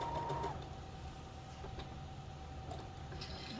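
A sewing machine runs steadily through fabric for a hot mat, a continuous close mechanical whir with no talking.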